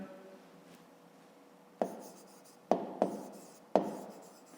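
A pen writes on paper during a fifth-grade maths exercise, giving short scratchy strokes in several separate bursts, close and fairly quiet, with no talking.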